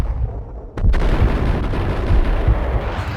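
Gunfire in the Max Payne video game, dense and loud, with a sharp burst near the start followed by sustained heavy shots and booms running through the rest.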